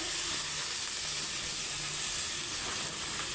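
Malabar spinach sizzling in a hot pan on the stove, a steady bright hiss of frying that holds evenly throughout with no talking.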